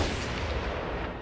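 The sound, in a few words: gunshot sound effect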